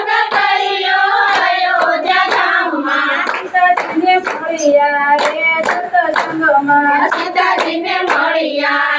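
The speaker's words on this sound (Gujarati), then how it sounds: "તાળી પાડો સારું આવે." Steady rhythmic hand clapping from a group keeps time through devotional kirtan singing, with the voices and claps loud and continuous throughout.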